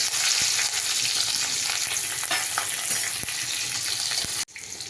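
Curry leaves and green chillies hit hot oil with garlic and urad dal, crackling in a loud continuous sizzle with scattered pops until it abruptly quietens at the end.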